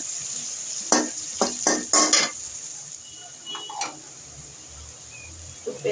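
Onions frying and being stirred in a pan, with a steady sizzle under scraping clinks of a utensil against the pan, in bursts during the first half and then quieter.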